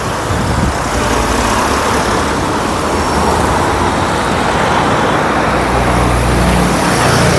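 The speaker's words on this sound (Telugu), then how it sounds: "రెండు కార్లు కూడా బయలుదేరాయి చూడ వెళ్ళిపోతున్నాయి" Two cars pulling away, heard as a loud, continuous wash of engine and road noise close by that holds steady throughout, with no speech over it.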